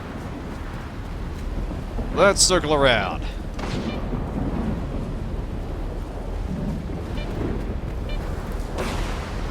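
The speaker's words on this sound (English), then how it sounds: "Well, I guess night's falling and we have a storm." Thunder rumbles and cracks through a stormy night in the S.T.A.L.K.E.R. 2 video game, one loud burst near the middle over a steady rain-like wash, with someone talking over it.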